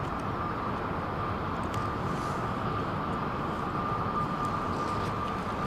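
Boeing 747 jumbo jet in American livery at London Heathrow, a steady broad jet roar heard from a distance, continuous and even throughout with no talking.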